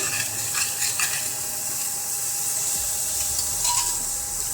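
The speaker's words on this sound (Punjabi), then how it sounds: "ਪਿਆਜ਼ ਟਮਾਟਰ ਤੇ ਮਸਾਲੇ ਨੂੰ ਆਪਾਂ ਹੁਣ ਮਿਕਸ ਕਰ ਦਵਾਂਗੇ" Onion, tomato and spices stirred into chana dal with pumpkin in a pan, a steady soft sizzle with light scraping and clinks of a utensil, close and continuous with no talking.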